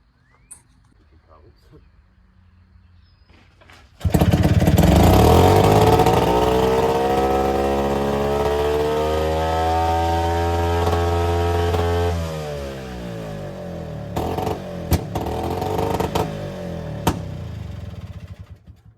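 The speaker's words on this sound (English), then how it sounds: "So we're gonna see if it fires up again now that I've got the fuel tank situated a little differently" The two-stroke engine of an Attex 6x6 ATV kicks into life after quiet shuffling, then roars loud and close, revving up and down, before dropping back to an uneven idle with a few sharp clanks.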